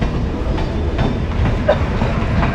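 The Ma Tara Express passenger train at Naihati Junction gives off a loud, steady rumble with faint clickety-clack and metallic knocks, heard from inside a general coach with no voices.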